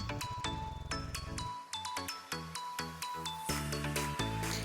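A notification bell sound effect rings out as a quick run of bright, ringing chime dings, each with a short decaying tail, set over a steady musical backing with no voices.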